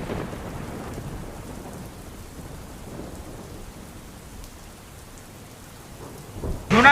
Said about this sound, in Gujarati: ધોધમાર વરસાદ થતાં અંડરપાસ પાણીમાં ગરકાવ થયો છે